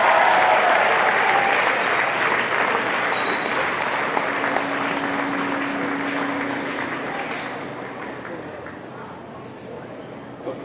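Audience at Manchester Central High School applauding to welcome Governor William Weld, a loud sustained burst of clapping that slowly fades over several seconds.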